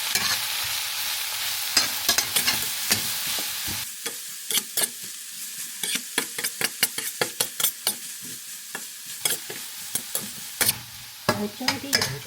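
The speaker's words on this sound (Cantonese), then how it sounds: "我哋要將啲洋葱炒到佢焦香， 用中火翻炒，每隔幾分鐘將佢翻炒就得㗎啦" Onions for French onion soup are stir-fried in a wok over medium heat. A soft sizzle runs under a steady series of distinct scraping and tossing strokes from the spatula, close and rhythmic, with no talk.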